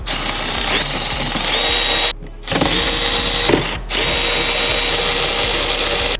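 A power tool with a 10mm socket whirs loudly and close as it removes bolts from a Civic Type R shifter, in three sustained runs separated by short silent pauses.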